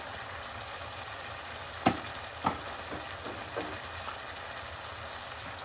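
Ground turmeric, coriander and cumin hit hot oil in a pan with a quiet, continuous frying crackle, broken by a few soft clicks and taps from stirring.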